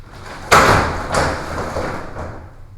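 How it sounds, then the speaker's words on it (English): An indoor door is shut with a loud, close thud, followed by a softer second knock about half a second later as it settles against the frame. "I'm gonna shut this door."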